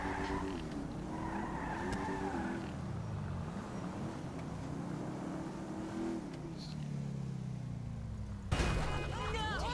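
Engine roar and a long tire-squealing skid from a car in a video game, loud and continuous, closing with a sharp burst near the end, under a talking voice.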